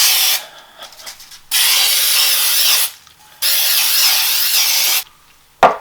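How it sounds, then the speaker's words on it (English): Aerosol baking spray hisses onto a plain bun pan in three long, loud bursts separated by short pauses, followed by a brief clack at the end. "I'm just using some baking spray."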